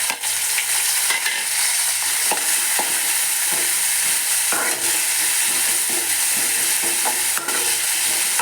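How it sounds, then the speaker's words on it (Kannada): Boiled jackfruit seeds sizzle in hot tempering oil with turmeric for a Mangalore-style drumstick leaf dry curry, a loud continuous frying hiss broken by light stirring scrapes against the pan. "ಇವಾಗ ನಾನು ಬೇಯಿಸಿಟ್ಟಿರುವಂತಹ ಹಲಸಿನ ಬೀಜನ ಇದಕ್ಕೆ ಹಾಕ್ತಾ ಇದ್ದೀನಿ ಒಗ್ಗರಣೆಗೆ."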